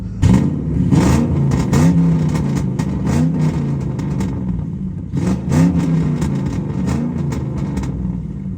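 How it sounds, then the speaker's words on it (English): A 3-valve Ford Mustang S197 V8 with an off-road H-pipe exhaust, revved from inside the car: two loud bursts of repeated rising and falling revs, each separated by a steady, rumbling idle. "I'll give you guys a few revs right now. Let me rev the car a little from inside."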